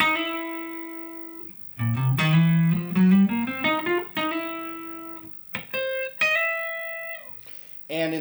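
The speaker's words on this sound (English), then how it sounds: "hammering on the major third within your blues licks" Electric guitar, a Fender Strat, playing a blues lick with hammer-ons up to the major third: clean sustained notes, quick legato slurs and bends rising in pitch, several short phrases separated by brief gaps, played alone and close.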